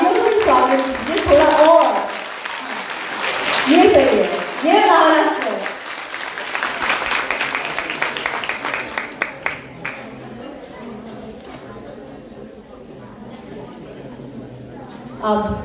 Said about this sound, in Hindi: तालियों से स्वागत कीजिए थोड़ा और।